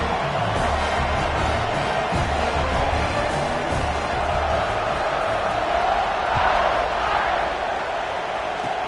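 A large stadium crowd roars continuously, a dense steady wall of cheering and shouting from many distant voices.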